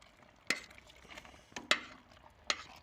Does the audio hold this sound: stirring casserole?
yes